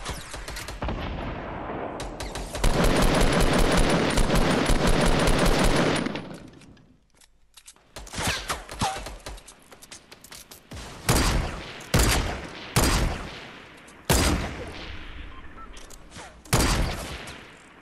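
Fortnite gunfire in a duo match: a sustained burst of rapid automatic fire, then a pause and a string of separate sharp shots and short volleys, loud and close, with little talk.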